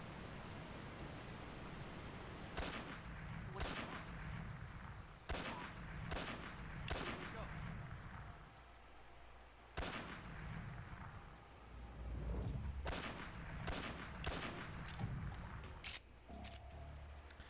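Gunfire in Metal Gear Solid 3: Snake Eater sounds as sharp separate shots and short bursts, some spaced and some in quick clusters, over a soft game backdrop.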